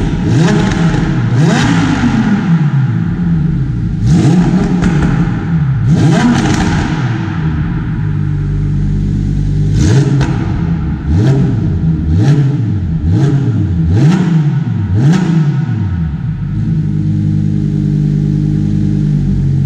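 A Lamborghini Huracan Performante Spyder revs hard and accelerates on a beach outing, its engine rising and falling in repeated loud sweeps, close and steady throughout with no talk over it.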